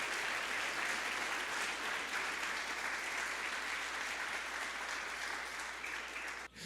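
A church congregation claps steadily for Jesus during a sermon, a continuous even roar of many hands heard at a distance, ending abruptly.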